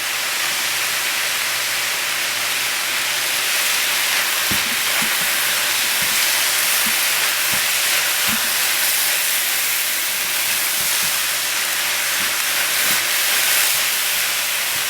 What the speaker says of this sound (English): you're just going to let it fry on high for 2 to 3 minutes